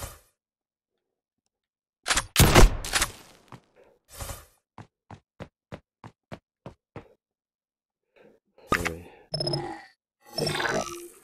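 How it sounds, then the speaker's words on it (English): Series of mechanical clicks and clacks from loading rounds into a firearm in an Unreal Engine 5.1 VR shooter, a heavy clatter, then about eight evenly spaced sharp ticks, followed by a few more metallic handling noises. "Let me show you how we reload."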